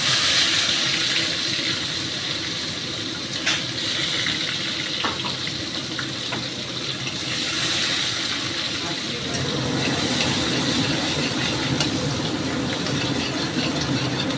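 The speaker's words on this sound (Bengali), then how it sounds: "ফোড়নটা হয়ে আসছে, এখন আমি একটা বড় পেঁয়াজ কুচি দিয়ে দিলাম।" Chopped large onion hits hot oil with tempering spices as an egg curry begins, giving a steady, loud, broadband sizzle that holds throughout with small crackles and pops.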